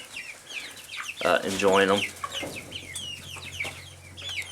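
Backyard chickens clucking while eating cicadas: close, busy clucks and chatter from several hens with a louder drawn-out call in the middle, a person speaking briefly alongside.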